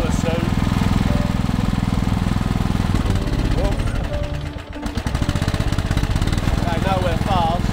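A lawn mower engine runs steadily and loud at close range, with a brief dip in level midway before the rough, rattling drone resumes, and a voice talks over it.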